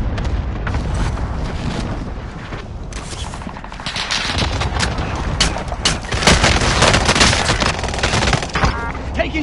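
Heavy gunfire in the battle royale shooter Call of Duty: Warzone, dense overlapping shots and booms filling the whole stretch, loud and continuous with some bursts standing out near the end.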